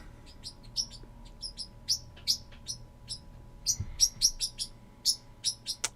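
A pet bird chirps indoors in a lively run of short, bright tweets, some clustered rapidly, others spaced apart, standing out clearly over a faint steady background hum.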